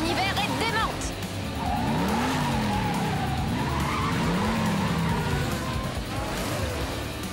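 Hot Wheels race cars screech and skid through a cartoon race, with sweeping tire squeals and engine whines that rise and fall over a dense, loud roar, while an excited announcer talks over the action.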